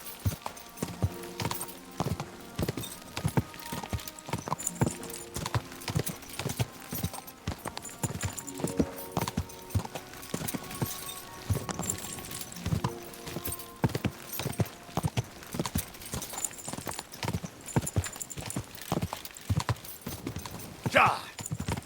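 A horse gallops in the medieval video game Kingdom Come: Deliverance 2, its hooves beating in a steady rapid rhythm up close for the whole stretch, with voices talking over it at times.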